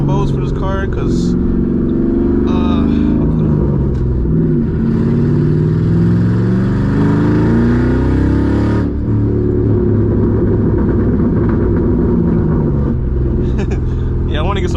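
Straight-piped 2007 Mustang GT revving loudly while driving, the engine roaring up and down through downshifts, close and dominant throughout with a rising, swelling tone.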